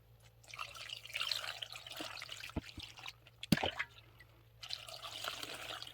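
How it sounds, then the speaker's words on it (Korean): Kimchi broth poured into a container, a quiet trickle and splash with a few distinct drips, close up. "이렇게 해가지고 국물을 해놓은 거를 부어주세요"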